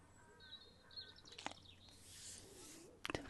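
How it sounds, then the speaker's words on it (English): Morning birdsong outdoors: several birds chirp and whistle over a low background hum, with thin tonal calls and a few sharp close chirps near the end, moderately faint. "We've got a lot of birds here."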